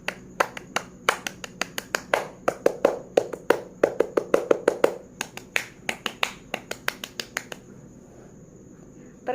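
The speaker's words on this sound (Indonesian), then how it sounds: "3 kali tepuk Pramuka" A single person performs the Pramuka scout clap pattern three times, crisp rhythmic hand claps in quick grouped sequences, close and dry, stopping cleanly before a brief quiet.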